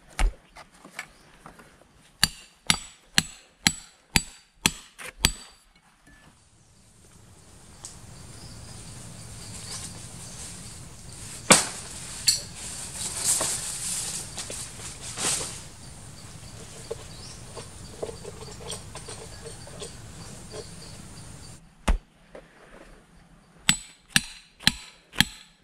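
Climbing pegs being hammered into a tree trunk on the way up to a large wild beehive: a run of sharp, evenly spaced hammer blows, then a quieter stretch of outdoor ambience with a few scattered knocks, then another quick series of strikes.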